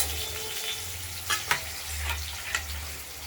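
Tomatoes are added beside potatoes frying in a pan for a rohu fish curry, with a dense, steady sizzle close up and a few sharp spatters and stirring scrapes over it.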